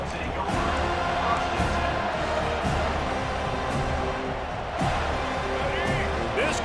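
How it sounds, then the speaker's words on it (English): Roaring stadium crowd from the college football video game EA Sports College Football 25, a steady, dense wall of noise that runs through the whole stretch beneath a game commentator's voice. "This crowd bringing the energy and noise early."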